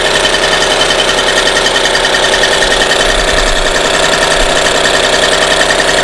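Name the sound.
Solex 3800 moped engine running and warming up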